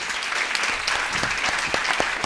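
Conference audience applauding after a welcome speech in Paris, a dense, steady wash of clapping hands throughout with no voices on top.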